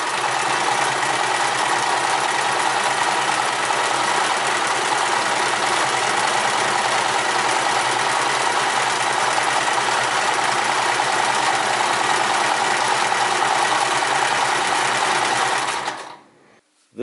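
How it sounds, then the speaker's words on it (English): Sears Kenmore 158 series sewing machine running a straight stitch, a steady, close mechanical whir with rapid needle clatter that holds evenly for about sixteen seconds, then stops abruptly. "And then you get the same thing in a straight stitch."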